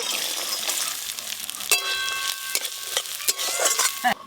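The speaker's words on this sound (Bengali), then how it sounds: "নারকেল কুচিগুলো ভালো করে ভেজে নেব।" Chopped coconut pieces frying in a pan for chana dal, a steady close sizzle with occasional clinks and scrapes of a utensil stirring, no voices.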